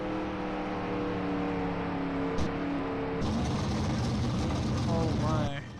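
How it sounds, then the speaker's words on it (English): A loud race car engine in a racing video game drones steadily with harmonic whine, then shifts into a rougher roar as it revs, while a player talks over it. "One loud car."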